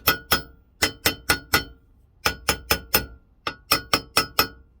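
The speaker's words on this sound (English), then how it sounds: "you want like a brass hammer, little brass one, and you want to give it little taps" Sharp metallic taps from a small brass hammer on a motorcycle crank bearing, in quick clusters of three to five, ringing briefly, with short pauses between groups.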